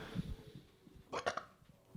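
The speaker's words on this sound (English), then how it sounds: "I have to stand up to burp." A single short burp from a man, a brief guttural burst after a soft low grunt, fairly close with a quiet room behind it.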